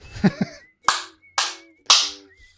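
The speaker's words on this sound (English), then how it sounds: "I'm going to clap just to have it synced up." Three sharp, evenly spaced hand claps ring out close and loud to sync audio during a virtual production podcast recording, following a short burst of nearby talk.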